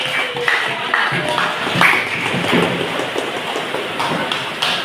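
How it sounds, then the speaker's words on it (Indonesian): Classroom clapping at a junior high school, a steady patter of many hands with a few louder claps standing out, moderately close, no talk over it. "Ya berikan tepuk tangan."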